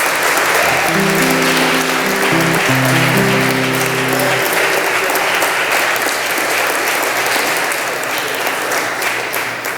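A church congregation applauds in praise with a loud, dense, sustained roar of clapping, while organ or keyboard chords sound under the first half.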